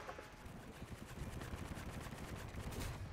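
A nail-gun-like weapon in a video game fires a rapid, continuous burst of shots, sounding faint and even throughout with no voices over it.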